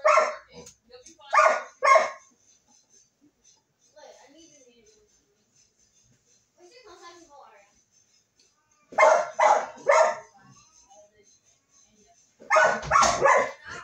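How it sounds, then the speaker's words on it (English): A dog barks indoors in a house where an electrician is installing an LED flush-mount ceiling light, letting out loud, close bursts of several rapid barks at the start, middle and end, with faint voices in the quieter gaps. "Do not let that dog out."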